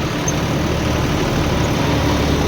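Two John Deere tractors, a 5210 GearPro and a 5205, run side by side pulling rotavators, making a steady, loud diesel drone with no break.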